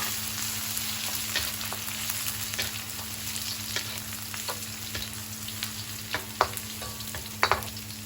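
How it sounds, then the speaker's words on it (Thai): Garlic frying in oil in a pan: a steady, fairly soft crackling sizzle throughout, with scattered sharper pops and scrapes toward the end. "ใส่กระเทียมลงไปเจียวก่อนค่ะ"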